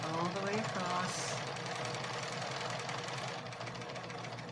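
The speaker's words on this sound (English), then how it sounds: "now we're sewing over that, that little ribbon that we added too" A sewing machine stitches steadily across a quilt, running over an added ribbon, giving a continuous fast mechanical whir that holds for the whole stretch with a faint voice underneath near the start.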